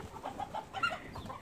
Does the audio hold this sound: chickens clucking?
yes